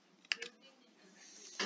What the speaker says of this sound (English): we type in